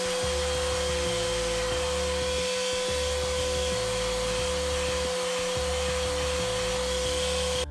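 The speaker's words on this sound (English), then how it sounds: "And now it's time for a bit of sanding." A power sander works over wooden wine rack parts, sanding up to 180 grit, giving a loud, steady whirring drone with slight pulsing shifts in load, close and uninterrupted.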